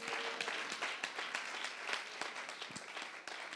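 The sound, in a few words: congregation applauding in church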